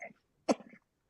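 A single short cough, close and fairly quiet, with a faint throat sound just before it and silence afterward.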